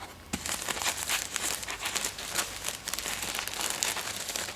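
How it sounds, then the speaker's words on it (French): Tissue paper with a sticker being unwrapped from a Polène bag box, a steady close crinkling and rustling with sharp crackles, no voices. "Donc ensuite on a le petit papier de soie avec un autocollant pollen"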